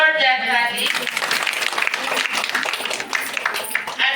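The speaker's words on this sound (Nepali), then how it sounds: "जोरदार ताली" Loud, dense applause from a women's fellowship congregation bursts in right after a brief spoken voice and keeps going strongly to the end.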